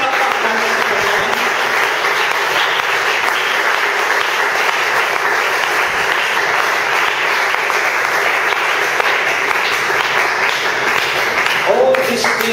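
Sustained, vigorous applause from a church congregation praising God, many hands clapping evenly for a long stretch, with voices audible beneath it and a voice rising near the end.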